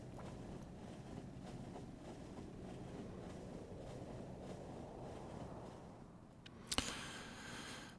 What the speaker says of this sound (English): this time we get to ride in the back of the train